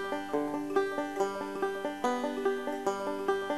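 Bluegrass banjo in a double-thumbing pattern, picked with only the thumb and middle finger, gives a quick, steady stream of bright plucked notes at an even rhythm, close up with no voices.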